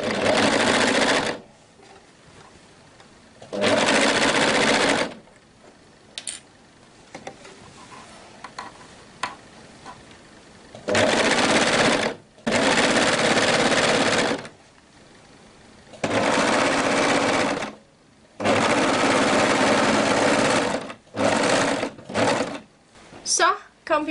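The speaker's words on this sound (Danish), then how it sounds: "Og så er der en god lang tur rundt her med at sy flæsen på." A sewing machine stitches a ruffle onto a skirt in several long continuous runs separated by pauses, loud and close, with brief ticking handling sounds in between.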